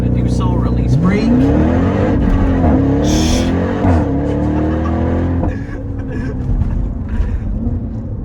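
Jeep Trackhawk, a 707-horsepower SUV of about 6,000 pounds, launching under launch control at full throttle: a loud, close engine roar rising through gears with brief shift dips, ending in steady high cruise, with a voice talking over it.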